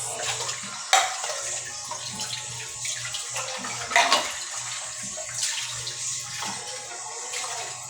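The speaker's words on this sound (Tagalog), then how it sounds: "hugasan na to guys para cleanliness" Dishes, glasses and plates are washed under a running tap, a steady rush of water broken by a few louder splashes and clinks as items pass under the stream, close and alone.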